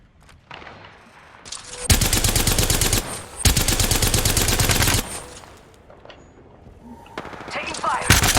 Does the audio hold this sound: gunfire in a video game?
yes